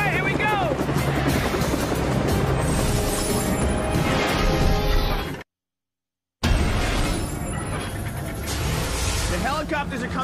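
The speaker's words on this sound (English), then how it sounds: "Helicopters are coming in to pick the guys up by their ankles" Helicopters flying in over water during a stunt challenge, a loud steady rotor and engine roar with a brief total dropout midway, voices faintly calling over the noise.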